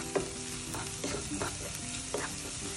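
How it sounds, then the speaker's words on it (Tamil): Chopped onions with salt sautéing in a pan for an egg curry, a steady close sizzle broken by several scraping stirs of a spoon against the pan, with no voices. "இப்போ சாப் பண்ணி வச்சிருக்கிற வெங்காயத்தை போட்டுடலாம். நல்லா வதக்கி விட்டுடலாம்."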